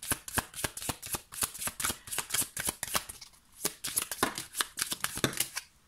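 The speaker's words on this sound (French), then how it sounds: "Allez, je vous laisse vous concentrer pendant que je bats les cartes." Tarot or oracle cards being shuffled by hand, a fast run of crisp riffling snaps and slaps repeating steadily throughout, close and fairly loud with no talking.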